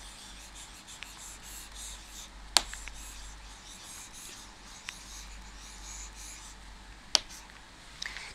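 Pen on paper while writing a homework answer: a quiet, continuous scratchy rubbing with a couple of sharp taps.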